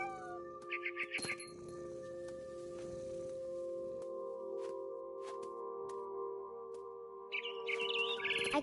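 Mama bird in the video game What Remains of Edith Finch, bursts of chirping and meow-like calls near the start and end over a steady tonal hum of game music.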